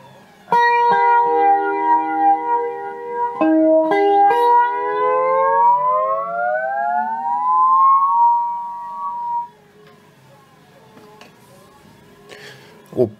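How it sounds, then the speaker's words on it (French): Flanger effect on a Boss ME-10 multi-effects unit, heard on sustained guitar notes with a sweeping, swirling comb-like tone that glides up over several seconds before fading, followed by quieter plucks. "Au mode flanger."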